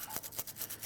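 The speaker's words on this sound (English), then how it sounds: "I have some 80 grit sandpaper on a little strip here. I'm gonna wedge it in there." Folded strip of 80 grit sandpaper scrubbing inside the rear brake drum of a 2011-2015 Kia Sorento, a close rhythmic rasping repeated in quick back-and-forth strokes with no talk.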